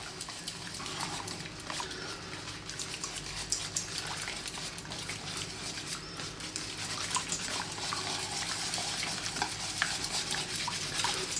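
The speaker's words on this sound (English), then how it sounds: "we're going to get whisk, and we're going to go in there and start to mix that up" A whisk stirring peanut butter dipping sauce in a bowl makes a steady, continuous wet scraping and churning that runs the whole time at moderate volume, with no talk over it.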